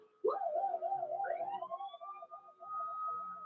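A woman imitates a police siren with her voice, rising into a wailing, warbling whoop that wavers up and down for several seconds, loud and close with no other sound.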